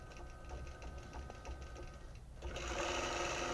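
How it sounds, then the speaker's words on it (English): Computerized quilting sewing machine stitching a drawn pattern: fast, even mechanical clatter of the needle, growing louder and busier after a short pause near the middle. "The machine is going to be at its start point to take a single stitch."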